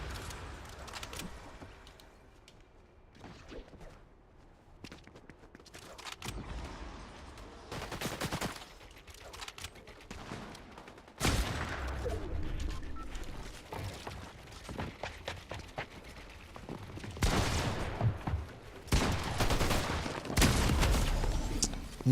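Gunfire in a video game shooter, played with stick and gyro aiming: bursts of rapid shots and sharp cracks in clusters over about twenty seconds, with quieter gaps between, fairly loud and close, with no talk.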